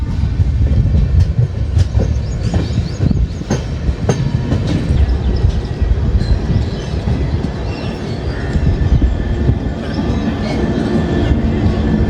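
An electric MEMU train bound for Viramgam Junction rolls past nearby in Gujarat, steady rumbling with repeated clickety-clack of wheels over rail joints for several seconds.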